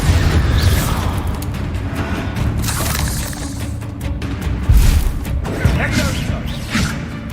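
A Bombarda blasting spell explodes in the Hogwarts Legacy video game, a loud booming burst with crashing debris against a dense, rumbling game soundscape that stays busy throughout, with a second heavy impact partway through.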